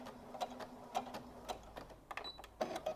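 A sewing machine stitches in reverse along flange binding, producing quiet, close mechanical ticks and clatters in short uneven bursts.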